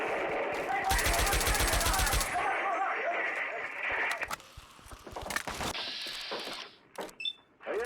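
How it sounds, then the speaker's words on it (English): A muzzle-loading gun is fired out of a window as a radio drama effect: a dense rattling burst of rapid cracks, followed by scattered knocks, clicks and a brief rising mechanical whine. "I'll fire it out the window."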